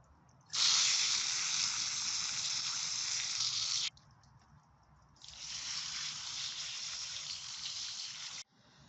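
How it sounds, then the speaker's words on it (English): A Bestway/Intex pool filter cartridge is rinsed with a spraying jet of water in two long, loud hissing bursts separated by a short pause, with no talking. "So to reuse this, you just have to wash it."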